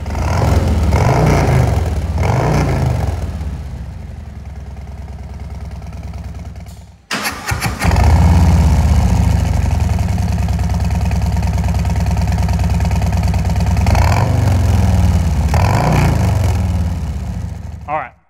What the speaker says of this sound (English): So we just started up with the Ripper baffle installed